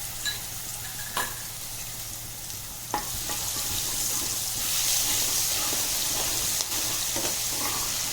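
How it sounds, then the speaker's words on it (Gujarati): Ginger, chili and garlic paste frying in hot oil, a steady soft sizzle with occasional stirring clinks and scrapes, fairly quiet and close. "હવે આપણું તેલ થઈ ગયું છે તો તેમાં આપણે આદુ મરચાં લસણની પેસ્ટ લઈશું."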